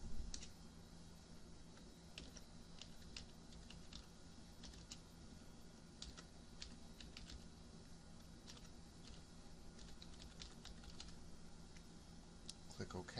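Rapid, steady clatter of typing on a computer keyboard, close and continuous throughout, with dense irregular key clicks over a low constant hum.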